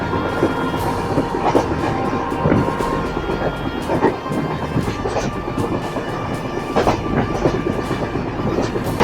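Agartala to Kolkata Garib Rath Express running at speed, heard from near the front of the train: a steady loud rumble with rhythmic clickety-clack of wheels over rail joints throughout, no speech.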